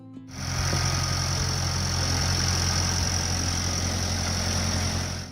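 A four-cylinder 3.3 L diesel tractor engine idles steadily after starting, a low knocking rumble with a high whine above, close and continuous.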